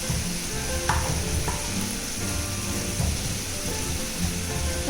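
Shallow-fried idli pieces are stirred into masala in a hot pan for Kerala-style masala idli: a continuous close sizzle of frying broken by a few scraping stir strokes, no talking.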